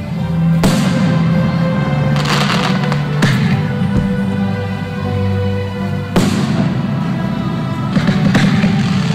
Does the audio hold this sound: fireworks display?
yes